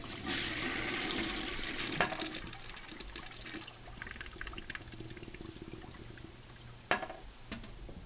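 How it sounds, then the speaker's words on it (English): A toilet flushes in the Death Flush video game, a quiet rushing pour of water that drains down into a trickle, with a couple of sharp clicks along the way and no voices. "Good flush sound."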